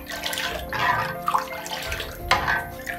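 Chili sauce is stirred into water in a cooking pot for Thai soup, giving soft sloshing and swirling liquid sounds with a couple of brief clinks, close and moderately loud.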